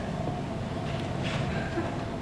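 Steady, rumbling train ride with a low continuous roll and faint rattles throughout, no clear talk over it.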